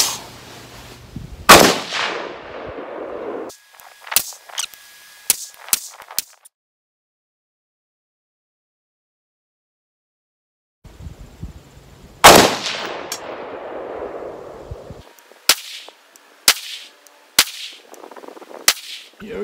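Sharp, loud 6.5 Grendel rifle shots firing Hornady Black 123 grain ELD Match rounds outdoors, single cracks with echoing tails and a long silent gap between two strings of fire.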